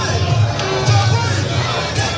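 A dense crowd of beach soccer fans at a Ghana versus Côte d'Ivoire match roars and cheers continuously, a loud steady wall of voices with swells of shouting.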